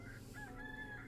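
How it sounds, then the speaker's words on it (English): A rooster crows in the video game Tavern Talk, a single faint cock-a-doodle-doo with a rising, held final note over soft background music. "Cock-a-doodle-doo!"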